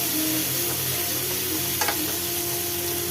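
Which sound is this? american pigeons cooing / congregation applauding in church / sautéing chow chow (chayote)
sautéing chow chow (chayote)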